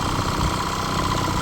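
A Mercury 9.9 four-stroke outboard boat motor with a freshly cleaned carburetor idles steadily and close by, a continuous even rumble with no talk over it.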